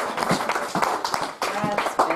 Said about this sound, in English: Clap like you will get a merit for clapping.